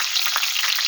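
Manti dumplings fry in a pan in a restaurant kitchen, a close, steady sizzle and crackle of hot oil with no voices.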